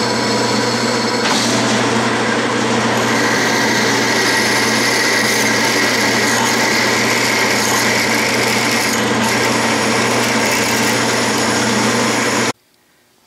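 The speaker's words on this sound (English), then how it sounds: "now I will open up the hole with an 11/36 drill bit all the way to the bottom" A power drill with an 11/36 bit whines continuously at high speed for over ten seconds while drilling a hole, steady and close, then cuts off abruptly.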